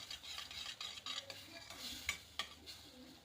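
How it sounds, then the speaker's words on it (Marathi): Roasted semolina being stirred into boiling jaggery water in a pan for sweet sheera, soft repeated scraping and clinking of the spoon against the pan, fairly quiet and close. "आपण आपला भाजलेला रवा हा त्यामध्ये छान असा मिक्स करूया"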